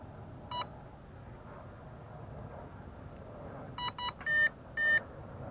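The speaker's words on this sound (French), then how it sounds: "Là s'il fait plus de bip c'est bon." A model airboat's electronic speed controller gives short electronic beeps while being programmed: one isolated beep, then a quick cluster of four near the end, over faint background noise.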